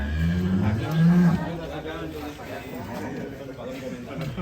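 A giant cow on a farm moos low and long near the start, then people chatter and move around it in a busy barn setting.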